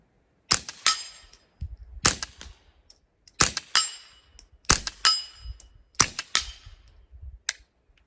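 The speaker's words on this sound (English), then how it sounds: "let's see what happens and see if we get more than one shot." A blowback AR rifle fires a series of sharp, loud shots in spaced bursts, each crack followed by brief metallic clatter and echo, about five to six groups over several seconds.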